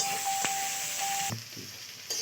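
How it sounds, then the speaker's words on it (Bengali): Onions fry in hot oil with a quiet, steady sizzle, followed by a short clink of a pan or utensil and a softer hiss toward the end. No talk is heard. "তো পেঁয়াজটা ভাজা হয়ে গেছে"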